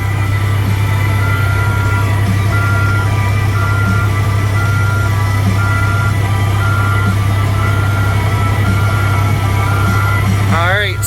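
A skid steer backs up with its reversing beeps sounding near the end, over a steady loud engine drone while a person gives instructions.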